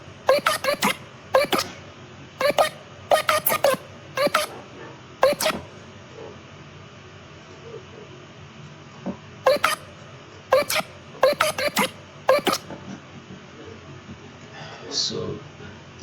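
Short processed vocal sample bursts with an effect set to full depth, chopped into quick stuttering clusters that repeat in rhythmic groups with gaps of near silence between them.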